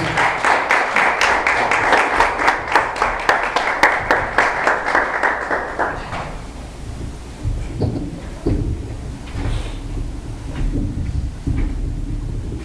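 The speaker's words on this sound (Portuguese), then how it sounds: "Pode aplaudir ao Senhor em nome de Jesus" A church congregation applauding in praise, a loud, busy round of many hands clapping that fades out after about six seconds, leaving softer room noise and scattered sounds.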